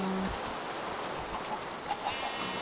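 A Minecraft chicken clucks a few times, short soft clucks scattered over a low background hum, fairly faint.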